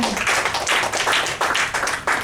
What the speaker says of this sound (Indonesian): Tepuk tangan lagi buat Tuhan.